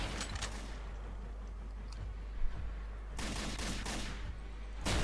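Gunfire aimed at a headcrab in Garry's Mod, rapid bursts of shots at the start and again near the end, loud over a steady low game hum.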